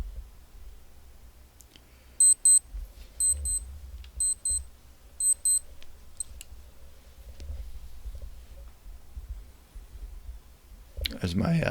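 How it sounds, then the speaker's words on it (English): A wake-up alarm clock sounds in four short paired electronic beep bursts, evenly spaced about a second apart, high and clean over a quiet low rumble, with a louder clatter right at the end. "there's my wake up alarm"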